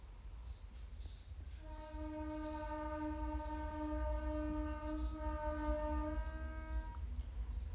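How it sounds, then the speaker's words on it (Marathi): A train rumbles past nearby and sounds a long, steady horn blast lasting several seconds over the continuous low roar of the wheels. "बघा ट्रेनचा आवाज येत असणार तुम्हाला तर खूप एकदम घराच्या जवळून ट्रेन जाते आमच्या"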